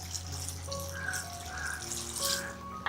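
Water is poured from a cup into a cooking pot of jackfruit in a home kitchen, a quiet, brief splashing and trickling against faint background noise.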